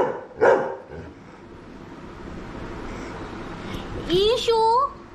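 A dog barks once loudly at close range indoors, followed by a stretch of room noise, then a voice speaks near the end.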